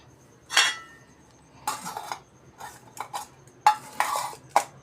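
Cooked vegetables being covered in a pot, several short metallic clinks and scrapes of a lid and utensils against cookware, spaced irregularly in an otherwise quiet kitchen.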